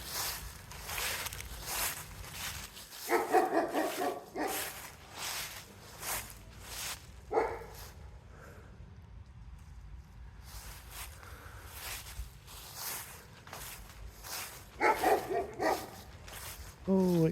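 A Great Dane barks in a few deep, separate bursts, somewhat distant, outdoors among falling leaves. Footsteps and rustling fill the gaps between barks.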